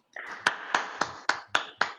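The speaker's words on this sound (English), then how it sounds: "give a round of applause" Six sharp claps spaced about a quarter second apart, sparse and steady like a handful of people clapping for a guest at an online direct-marketing event; close, fairly quiet, no talking.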